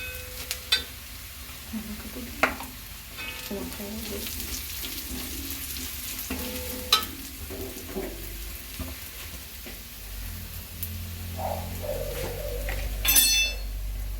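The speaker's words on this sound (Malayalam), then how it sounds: "നമ്മുടെ ഉള്ളി അങ്ങനെ ഒരുവിധമായി ആയി കഴിഞ്ഞു നമുക്ക് മുളക് പൊടി ഇട്ട് കൊടുക്കാം" Onions frying in a pan with crushed chili powder added make a soft, continuous sizzle, with occasional stirring scrapes and a brief splash of water near the end.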